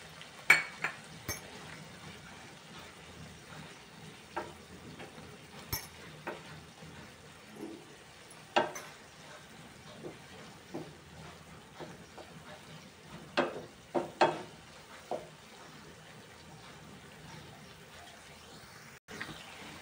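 Coconut being stirred into capsicum cooking in a pan for a Shimla mirchi dish: scattered scrapes and clinks of a spoon against the pan, sparse and fairly quiet, with no talking.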